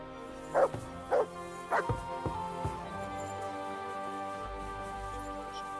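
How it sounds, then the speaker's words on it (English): A dog in the video game Kingdom Come: Deliverance II gives a handful of short yips and barks, spaced out and moderately loud over a steady game background hum. "You silly doggy."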